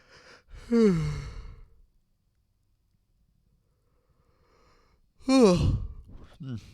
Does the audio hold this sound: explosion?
no